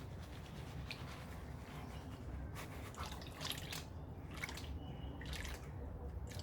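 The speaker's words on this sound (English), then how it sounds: "spin it around, a bit of water, get all the material down the opposite side to the ripples" Water sloshing and swishing in a gold pan as material is washed down the side away from the riffles during cleanup. Soft, close liquid splashes come in several short bursts over a low, steady background.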